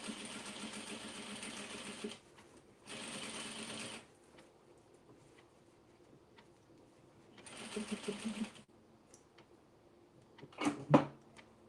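A home sewing machine stitches a half-inch seam down the side of an oversized denim tote in bursts, running steadily for a couple of seconds, pausing, then running again, with soft handling clatter between runs.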